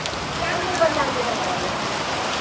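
Heavy unseasonal rain pouring down at an outdoor night jagaran gathering, a dense steady patter drumming on surfaces close by, with faint voices underneath.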